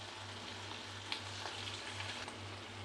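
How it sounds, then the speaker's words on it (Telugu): Cauliflower pieces for gobi 65 fry in hot oil, giving a soft, steady sizzle with faint crackles and occasional pops. Quiet and close, with no talking. "ఇది కూడా కొద్దిగా ఫ్రై అయిన తర్వాత తిప్పుకుందాం."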